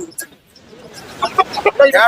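Roosters cluck at the busy Monday village market in Kunnathur, Tiruppur district, during Pongal. After a quiet moment, several short clucks come close and loud over a murmur of crowd voices.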